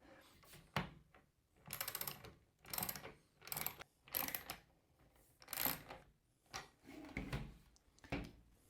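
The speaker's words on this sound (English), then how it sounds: "One of the only tools you might need is a little socket." A small 3/8 socket wrench tightening a nut on a ball-holder assembly: repeated ratcheting bursts with clicking pawl, about nine short strokes in a steady rhythm, close and fairly quiet, with no talking.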